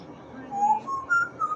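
A pet parrot whistles a short run of rising and falling tones, close and fairly soft, in a quiet room.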